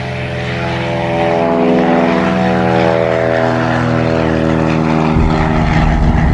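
A propeller aircraft at Redbird Airfield just outside Dallas, Texas, holds a loud, steady engine drone close by for the whole stretch, with a slight shift in pitch near the end.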